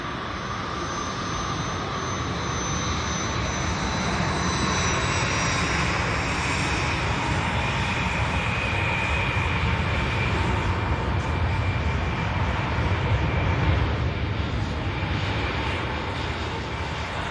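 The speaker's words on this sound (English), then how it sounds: "Virgin Atlantic Airbus A350 just touching down here at Manchester Airport." A Virgin Atlantic Airbus A350 touches down at Manchester Airport, its jet engines giving a steady, loud, broadband roar with a faint high whine that holds through the whole stretch, with no talk.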